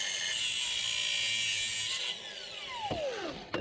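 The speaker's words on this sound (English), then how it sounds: "We're gonna take the death wheel and just do a little cut right here" A cut-off wheel grinds steadily through a small metal flap on a 1998-2008 Subaru Forester, a loud continuous hiss that cuts out after about two seconds and winds down with a falling whine.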